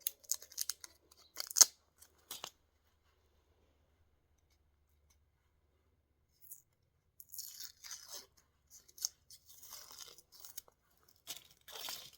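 Knife chopping an ingredient for lamb curry, crisp crunchy cuts in short bursts, a cluster early then a longer run of quick chops later, close and fairly quiet.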